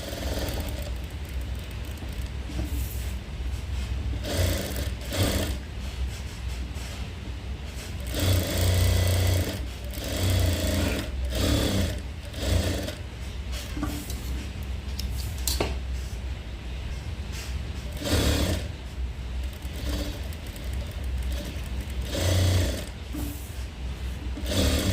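A sewing machine stitching the lining of a maggam work blouse, a rhythmic mechanical whirring in bursts that start and stop, with short pauses between runs, close and steady.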